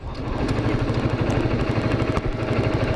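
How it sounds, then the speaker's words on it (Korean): A steady, rumbling Honda CBR125R motorcycle exhaust drone holds for the whole stretch, with a throbbing low pulse, loud and close, no voices. "바이크 배기음은 조금 더 크게 들어가는 것 같아요"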